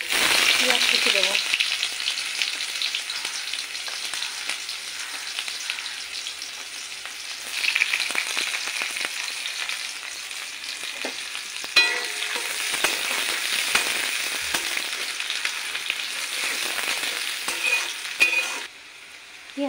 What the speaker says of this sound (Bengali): পেঁয়াজ কুচি দেওয়ার পর একটু ভাজা ভাজা করে নিয়ে